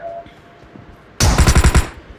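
Shotgun fire in the mobile battle royale game BGMI: after a quiet second, a loud, close burst of about seven quick, evenly spaced shots rings out and then stops abruptly.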